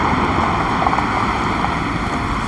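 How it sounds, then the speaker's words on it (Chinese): Strong wind roars and buffets steadily outdoors, a dense continuous rush loud against the microphone with no breaks. "这么大风呀！"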